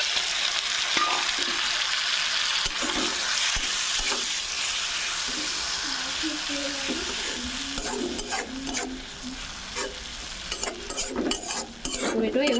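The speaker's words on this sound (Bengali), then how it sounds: "টমেটো এভাবেই কিছুক্ষণ কষিয়ে নিব।" Grated tomato sizzles and hisses steadily in a hot pan, with scraping stir strokes and clinks growing busier toward the end; no voices.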